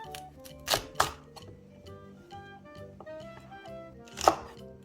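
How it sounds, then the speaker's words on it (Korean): A knife cuts Cheongyang chili peppers on a board in a quick, even run of light taps, with a few sharper, louder chops standing out, close and clear with no talk. "청양고추 6개 썰어줍니다"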